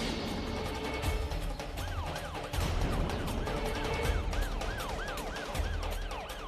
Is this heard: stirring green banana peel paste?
no